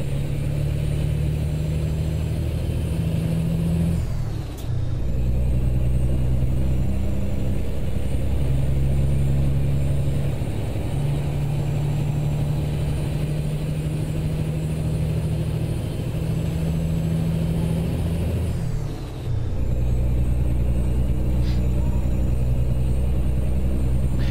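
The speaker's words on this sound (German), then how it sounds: "Also die Geräusche von diesem LKW sind herrlich." A Peterbilt 387 truck engine in Euro Truck Simulator holds a steady, deep diesel drone for a long stretch, with two brief dips where it shifts gear, loud and alone with no talking.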